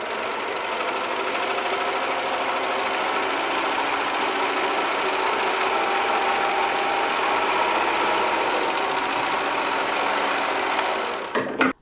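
A serger, or overlocker, runs continuously as it finishes the edges of woven fabric pieces, a loud steady mechanical whirring buzz that holds unbroken for many seconds before stopping abruptly.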